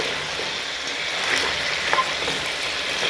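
Boiled potatoes stirred in a hot pan, giving a continuous close sizzle with faint scraping and a few soft knocks, no talking.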